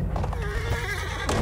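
A horse neighs in the video game Battlefield 1, a loud, close whinny lasting about a second over rumbling battle noise and hoofbeats.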